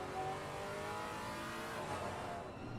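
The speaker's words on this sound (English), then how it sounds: "An easy excuse to go on board because who doesn't love the Maserati engine sounds?" On-board engine note of a Maserati GT4 race car at Brands Hatch in the sim racing game Assetto Corsa Competizione, a loud, steady, rasping drone holding under power with no talk.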